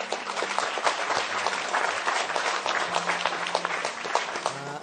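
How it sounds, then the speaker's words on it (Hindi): Audience applause rings out at a Pakistan Television 58th anniversary event, a dense, sustained patter of many clapping hands that lasts throughout, fairly close and without speech. "तो मैं आप लोगों की भरपूर तालियों में बहुत इज्जत के साथ दावत दूँगा मोहतरमा मैडम ज़ीनत सना साहिबा।"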